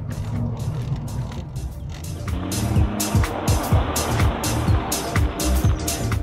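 Car engine revving hard under throttle with repeated surges, tyres squealing and scrubbing in bursts, loud and close, while a voice talks over it.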